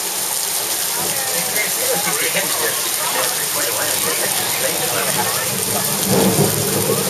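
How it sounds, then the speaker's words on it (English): Simulated thunderstorm on a studio backlot at Universal Studios Hollywood, where an overhead sprinkler system makes the rain: a loud, steady hiss of falling water with a low rumble of thunder swelling near the end. "some of you with a sharp eye may notice the rain being produced by the overhead sprinkler system"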